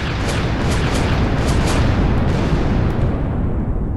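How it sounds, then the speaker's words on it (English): German artillery guns boom in a sustained barrage on Hill 112 in May 1940, a dense, heavy rumble of overlapping blasts with a few sharper cracks early on, loud and continuous for the whole stretch. "the German guns boom out their barrage"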